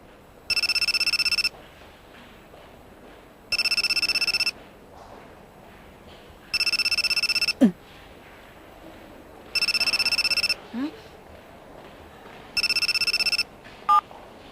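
A phone rings in five evenly spaced electronic bursts, each about a second long, with quiet pauses and a couple of faint clicks between.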